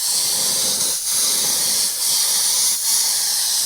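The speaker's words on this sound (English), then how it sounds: "I'm just going to airbrush it freehand using a few different airbrushes" An airbrush sprays sand-colored paint freehand in short, steady bursts of close, bright hissing air, about four passes separated by brief dips, with no one speaking.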